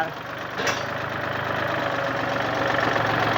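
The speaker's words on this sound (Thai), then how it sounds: "ใครไม่เคยเห็นรถไถยกล้อหน้า" A farm tractor engine runs steadily up close while lifting its front wheel, a continuous mid-pitched rumble with a knocking edge that grows slightly louder over the few seconds.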